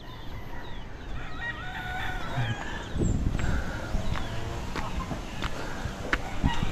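Chickens cluck and a rooster calls on a rural Filipino property, short scattered bird calls over steady outdoor background noise, with occasional thumps and no clear speech.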